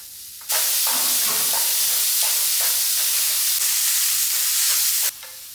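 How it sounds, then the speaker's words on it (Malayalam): Sliced onions and green chillies sautéing in hot coconut oil, a loud, bright, steady sizzle that erupts abruptly and holds for several seconds, with soft stirring scrapes underneath before it cuts off. "അത് വഴറ്റിയെടുക്കാം നല്ലപോലെ"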